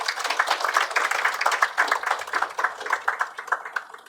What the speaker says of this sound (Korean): 서로를 향해서 격려와 응원의 박수를 보내는 것으로 시작하도록 하겠습니다